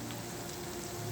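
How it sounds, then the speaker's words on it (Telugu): Prawn pakoda frying in hot oil, a brief, faint, steady hiss of bubbling sizzle heard close with no voices. "చూస్తున్నారు కదా, బాగా ఫ్రై అవుతున్నాయండి."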